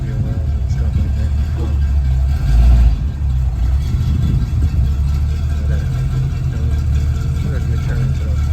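A G-body Chevrolet Malibu Landau engine runs steadily through a turn, a low continuous rumble close by with a slight swell midway, while people talk over it.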